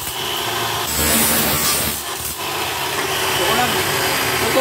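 A machine saw cuts through aluminum with a steady, loud, dense grinding roar throughout, while someone talks over the noise.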